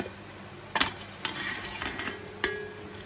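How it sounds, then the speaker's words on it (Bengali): Spices fry in oil in a pan with a soft, constant sizzle, broken by a few sharp clinks and scrapes of stirring, nearby with no talk. "মশলার থেকে দেখবেন যখন তেল ছেড়ে আসছে তখন আমরা বুঝে যাব যে এটা হয়ে গেছে"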